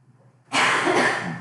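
A single loud sneeze bursts out after a quiet pause in a classroom, the sharp broadband blast sustained for about a second.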